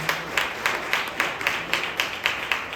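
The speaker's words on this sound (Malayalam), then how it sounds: "നല്ല കയ്യടി കൊടുത്ത് പ്രോത്സാഹിപ്പിക്കാം." An audience at a church Sunday school anniversary event claps in a steady, evenly paced rhythm, sounding like a small group applauding at close range.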